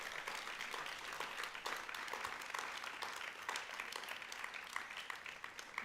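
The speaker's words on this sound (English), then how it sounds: "So a big, big round of applause from the audience for our graduates" Audience applauding graduates at a high school graduation ceremony, a dense, steady wash of many hands clapping throughout, moderately loud and sustained without a break.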